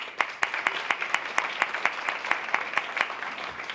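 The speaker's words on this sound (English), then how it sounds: "So I can give him a round of applause." A modest round of applause at a corrections class graduation, individual claps clearly spaced in a fairly even rhythm, moderately quiet and heard alone without speech.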